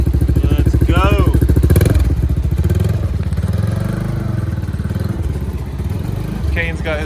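A dirt bike engine idles and revs while warming up close by, a rapid throbbing putter that swells then settles, with people talking over it.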